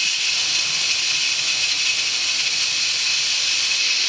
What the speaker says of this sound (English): Now we're gonna release the pressure.